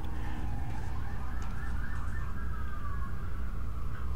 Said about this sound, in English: This game has got a lot of police cars out here.